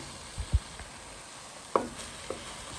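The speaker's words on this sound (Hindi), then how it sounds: "इसकी अच्छी तरह इस पास्ता सॉस में ना कीमे को भून लो" Minced meat cooking in pasta sauce for an Asian-style pasta, with a faint steady sizzle and a few soft scraping knocks of a spatula in the pan, quiet and close.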